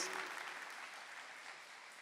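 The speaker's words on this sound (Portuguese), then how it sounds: "Isso, aplauda com força a palavra de Deus." Faint, distant wash of congregation applause in a church service, steady dense clapping that fades slightly over two seconds.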